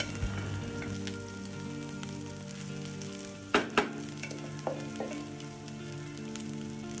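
Cooked rice stirred into a cumin tempering in a pan for jeera rice, soft steady sizzling with a few sharp scrapes and knocks of the spoon partway through.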